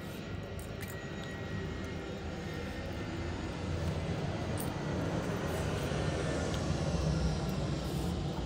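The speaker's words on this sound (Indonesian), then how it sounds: "Mulai dah pesawat tuh." A passenger airplane flying overhead, a low, broad engine rumble that grows gradually louder over several seconds with no one talking.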